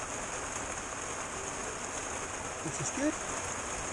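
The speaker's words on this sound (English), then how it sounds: "listen to this rain" Heavy rain drums steadily on the roof of a 1973 VW camper van during a storm, a dense, even hiss heard from inside, with a person speaking briefly over it.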